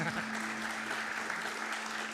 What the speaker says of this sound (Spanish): Si lo entiende, aplauda.